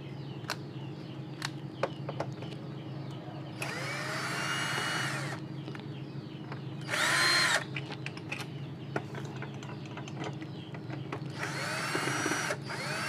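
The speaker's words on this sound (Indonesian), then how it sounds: "Di sini saya gunakan bor listrik." An electric drill backs out the main screws of a PlayStation 3 console in three separate whirring bursts, one brief and sharp, amid quieter clicks and handling noises of the open console.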